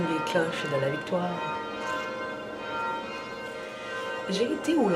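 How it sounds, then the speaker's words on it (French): Church bells ring with a sustained, humming resonance that lingers underneath, while a person talks over them nearby for most of the stretch. "On peut attendre les cloches de la victoire."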